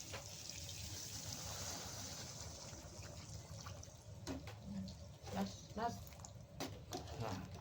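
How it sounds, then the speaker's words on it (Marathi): Hot water poured into a pan of crab curry, a soft continuous trickling splash in the background while a person keeps talking over it, with a few clinks and bubbling pops near the end. "थोडा गरम पाणी केलेला, त्या गरम पाणी आपण टाकणार आहे."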